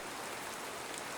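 Steady rain falls in a continuous, even hiss of dense drops with no pauses or changes in intensity, and no voices.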